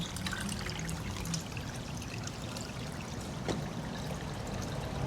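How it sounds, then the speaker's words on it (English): Water from a DIY pond bog filter running in a steady, unbroken trickle and splash, close and even in level from start to finish with no voices. "the water flow is still great"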